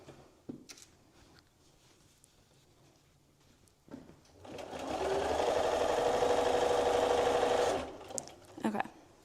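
Home sewing machine stitching quilt binding, a steady, fairly loud whirring run of about three seconds after some handling clatter, with a short pause and restart, followed by faint rustling.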